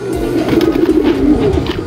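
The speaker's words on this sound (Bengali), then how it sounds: "অস্থির একটা খুমা, জাক কবুতর" A Jacobin pigeon coos close by in a steady, continuous low murmur that rolls on through the whole short stretch with no other sounds.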